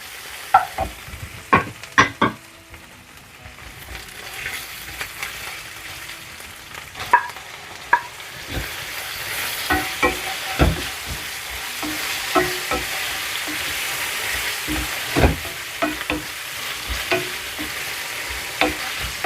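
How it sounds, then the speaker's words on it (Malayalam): Onion, ginger garlic paste and tomato stirred and frying in a pan for brinjal curry: steady close sizzle with repeated scraping stirs of a spoon throughout, no voices. "ജിഞ്ചർ ഗാർലിക് പേസ്റ്റിൻ്റെ പച്ചമണം അങ്ങോട്ട് മാറി ഞാൻ നമുക്ക് ടൊമാറ്റോ ഇട്ട് കൊടുക്കാം"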